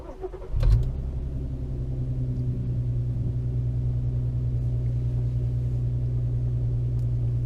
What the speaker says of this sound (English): It's idling at about 1100 and it's real bubbly right now